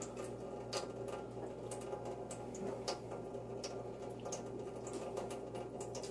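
Water running from a tap into a Big Berkey filter, a steady soft hiss and trickle with light intermittent splashes, faint and continuous throughout.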